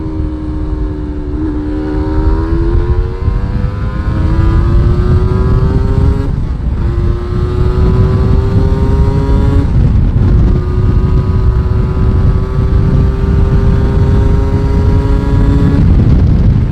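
A Yamaha TDR 125 motorcycle with a six-speed gearbox rides and accelerates through several gears, its engine note climbing steadily after each shift, loud and close over constant wind rush.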